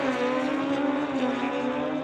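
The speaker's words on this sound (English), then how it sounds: "This bike's definitely a higher pitch than the typical roar that we hear from the cars" A drag racing motorcycle at an NHRA Summit ET Series race, with a high-pitched engine wail that holds steady and loud for about two seconds, no talk over it.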